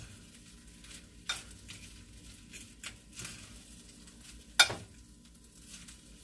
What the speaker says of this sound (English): let me give this rice a stir